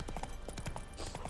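Soft clip-clop of the horse Roach's hooves in the video game The Witcher 3, a few quick steps heard faintly under a low background bed.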